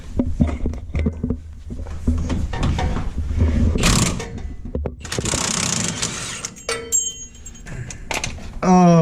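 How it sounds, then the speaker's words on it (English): A big Milwaukee impact wrench busts loose a pinion nut under an LS-swapped Chevy Nova. Short, loud rattling hammer bursts come over mechanical clatter and shop noise, with some voices nearby. "Uncle Ray's got the big Milwaukee out, about to bust this pinion nut loose."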